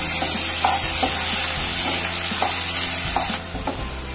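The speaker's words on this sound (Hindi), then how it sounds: "और ग्रेट की हुई अदरक डाल देंगे और लहसुन का पेस्ट डाल देंगे सबको झिलमिल होने तक फ्राई करेंगे" Steady loud sizzling of grated ginger, garlic paste, onion and green chilli frying in a pan, with irregular soft scraping and stirring taps throughout, no voices.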